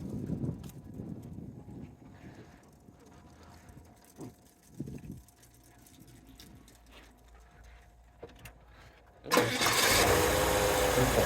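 A rebuilt 265 V8 in a 1955 Chevrolet Nomad cranks and fires, bursting into a loud, steady close-up roar after quiet shuffling and faint voices.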